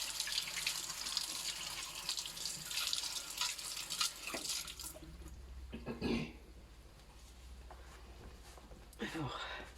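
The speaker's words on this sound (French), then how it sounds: "Voilà, je me lave les mains." Water from a tap runs and splashes over hands being washed at a sink, a steady hiss for about five seconds before it stops, followed by faint drips, a cough and a brief vocal sound.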